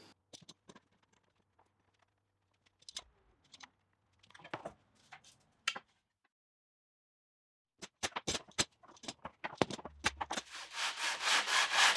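Wooden kayak paddle blade from a reclaimed board sanded on its concave side with 40 grit sandpaper glued to a matching offcut: scattered scraping strokes at first, then a steady run of rapid, loud rubbing close by.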